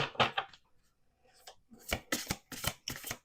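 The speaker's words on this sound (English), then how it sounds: "We're going to do 2 more shuffles." Tarot cards are shuffled by hand in several quick, crisp riffling bursts, a pause after the first few, then a rapid run of close papery flutters.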